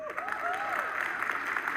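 A live audience claps after a talk on startup growth hacking, brief steady applause heard at a moderate distance with a voice speaking over it.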